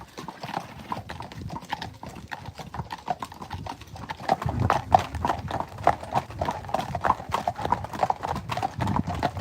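Horse hooves clip-clopping in a steady walking rhythm, growing louder partway through, with faint voices and a distant whinny in the background.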